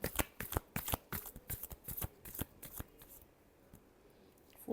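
Tarot cards are shuffled by hand in a quick run of crisp riffling slaps, close and quiet, fading to near silence at the end.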